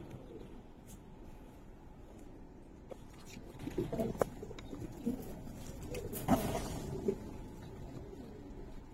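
Pigeons coo softly and intermittently over low background rustle, with a few soft calls and pattering sounds clustered in the second half, fairly quiet and close.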